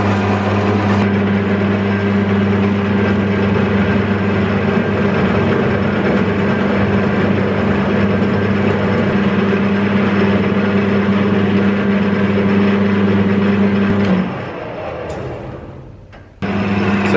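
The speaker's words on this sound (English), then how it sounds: "First operation of the Kulali part on this lathe." A metal lathe runs its first cut on a part for the Kulali, with the cross feed disconnected. A steady, loud machine hum drones throughout, then drops and winds down near the end.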